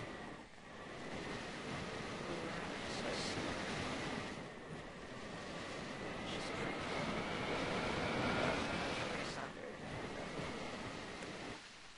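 Thrusters fire in the Scrap Mechanic video game, a continuous broad rushing roar that swells and fades gently, steady and fairly quiet.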